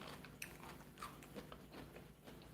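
Crunchy bites of a rainbow beetroot salad made with colourful beet varieties, heard as close, quiet chewing and crunching with a few sharper bites, no talking.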